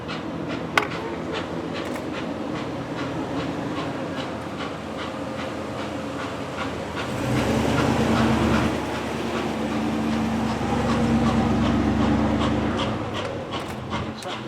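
N&W 611 steam locomotive hauling a passenger train, a steady rumbling rush with rhythmic clicking, heard at moderate distance and swelling louder partway through, with no talk over it.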